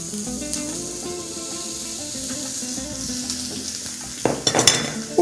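Green vegetables and courgette cook in a pan and are stirred together, a soft continuous sizzle under a low hum, followed by louder scraping and clattering stirring strokes at the end.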